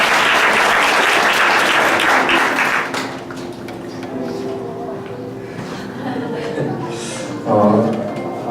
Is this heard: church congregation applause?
yes